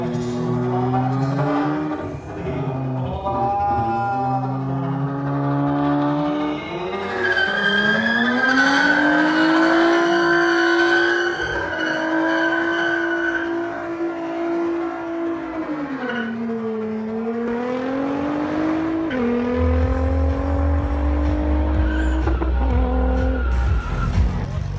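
Tuned cars at a sprint race event howl through sustained engine notes that rise and fall with gear changes, joined by long tire squeals and skidding, loud and continuous throughout.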